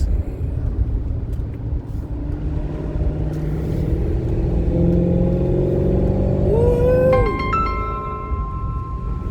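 Maserati GranTurismo (2018 face-lift) engine running with a steady low rumble that swells as it revs, loud and close throughout, with a brief rising whine near the end.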